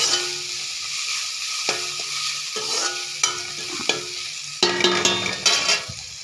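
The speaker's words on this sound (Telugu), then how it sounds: "ఇవన్నీ వేసి బాగా వేయించుకోవాలి ఈ టమాటాలకి ఉల్లిపాయకి వీటన్నిటికీ బాగా మసాలా పడుతుంది" Tomatoes and onions frying with ginger paste and masala in a pan, a steady close sizzle broken by repeated scraping stirs of a spoon, no voices.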